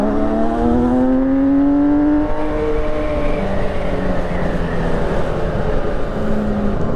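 A custom Honda CBX 1000 motorcycle fitted with a Fireblade engine revs hard on a test ride, its loud, steady engine note rising and falling through the gears, close and continuous.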